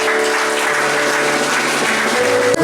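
Dense applause greeting Papa Béni at a church consecration ceremony, loud and continuous, close and filling the room, with a steady tone underneath throughout.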